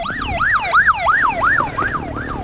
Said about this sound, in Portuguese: Sirene aberta.